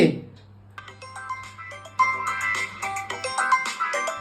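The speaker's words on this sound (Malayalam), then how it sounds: "ഇവിടെ ഒന്നും ഫോണിൽ വിളിക്കുന്നു." A phone rings nearby, its electronic ringtone playing a repeating string of bright melodic tones after a brief pause.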